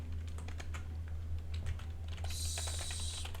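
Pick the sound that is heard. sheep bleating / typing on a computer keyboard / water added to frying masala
typing on a computer keyboard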